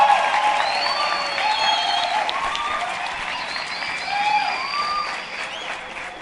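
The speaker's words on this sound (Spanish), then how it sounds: "Un aplauso para Alan." Hall applause welcoming a guest speaker at a talk, sustained crowd clapping for about six seconds with a few whistles rising over it.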